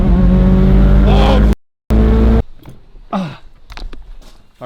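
A Mazda RX7 rotary engine with rolling anti-lag builds boost, a loud revving roar that cuts out abruptly, then returns and gives way to sharp pops and crackles, with voices in the background.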